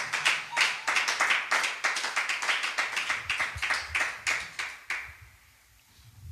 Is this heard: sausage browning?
no